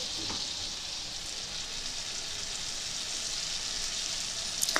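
Spices tempering in about two spoons of hot oil, with mustard seeds, cumin, dried red chillies and asafoetida for a Gujarati dal, giving a steady close hiss and sizzle with a sharper crackle near the end.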